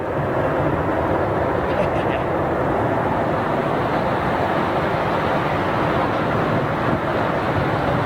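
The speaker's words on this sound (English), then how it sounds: "Spray is from the reversers blowing the air forward to slow the aircraft down." A loud, continuous roar of a jet airliner landing with thrust reversers engaged in windy storm conditions at London Heathrow, a broad rumbling wash of noise, steady for several seconds.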